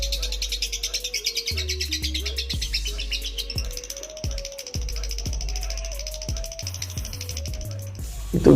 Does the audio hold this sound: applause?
no